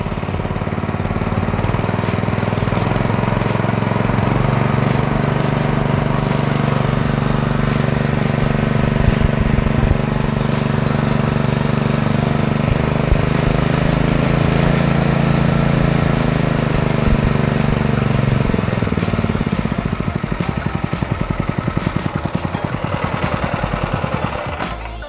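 Homemade 48-volt off-grid generator engine runs steadily and loud, a continuous droning, rumbling drone with a slight rise in pitch partway through, holding on alone without talk until it trails off at the end.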